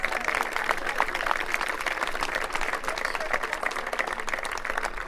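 A crowd at an athletic center dedication applauds and cheers continuously, dense close clapping with voices mixed in throughout.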